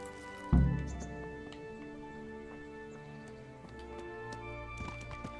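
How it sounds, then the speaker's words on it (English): At the stables in Kingdom Come: Deliverance, a horse stamps with one heavy thud and then scattered hoof knocks and clops, set over a steady tonal ambient drone with faint clicks. "The horse is having a seizure behind you."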